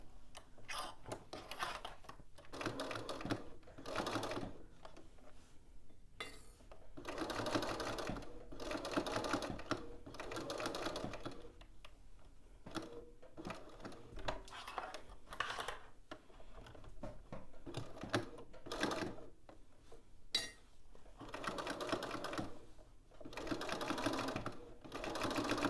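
A sewing machine stitches a garment seam in a series of close, rapid bursts separated by brief stops, with the pace shifting as the fabric is guided and pivoted at a corner.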